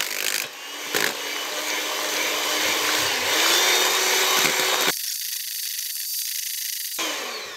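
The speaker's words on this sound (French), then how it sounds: "cette crème, on va la monter au batteur" An electric mixer whips mascarpone vanilla cream with a loud, steady whirring buzz that swells slightly, then cuts off abruptly partway through.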